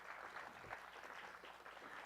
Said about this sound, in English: Let's give them a big old round of applause,